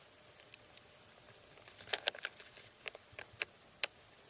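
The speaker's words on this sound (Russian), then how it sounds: "Мелкий дождь продолжает моросить" Light drizzle falls outdoors beside a dugout, heard as sparse, irregular droplet ticks and soft patter, a few sharper taps standing out against a quiet background.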